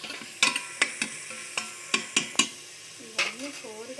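Vegetables with ginger-garlic paste are stirred and fried in a pan, giving repeated sharp scraping clacks of a spoon against the metal over a steady sizzle, with a brief burst of voice near the end.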